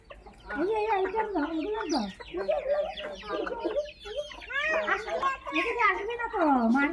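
Hens clucking close by as they are fed grain in a village yard, busy overlapping clucks and calls with people calling out to them throughout.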